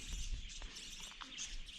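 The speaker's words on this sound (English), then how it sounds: "Listen to all the birds." Birds chirp and tweet in the open air at a dry riverbed by Ormiston Gorge in the West MacDonnell Ranges, several small calls overlapping faintly against a steady outdoor background.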